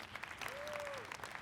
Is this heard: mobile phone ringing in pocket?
no